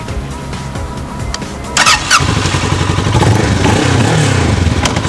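A Kawasaki sport motorcycle engine, new with zero mileage, starts and revs loudly up close; a rough idle gives way to a sharp burst and then a sustained throaty rev that holds steady to the end.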